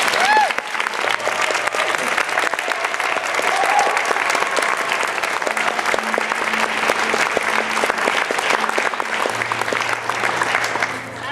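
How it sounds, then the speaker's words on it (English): Sustained audience applause at a school theatre performance of Still Life with Iris, a dense steady wash of many hands clapping throughout, with faint low musical tones underneath and scattered voices. "So please give them another round of applause."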